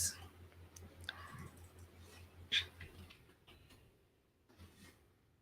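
Several sharp mouse clicks scattered across a quiet stretch, with faint background hum and no speech while free assets are chosen in the Unity game editor.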